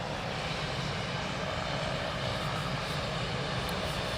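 Training aircraft engines, BAE Hawk T2 or Texan T1, at RAF Valley before a formation takeoff: a steady, continuous engine roar and rumble holding at a moderate level throughout, with no voices.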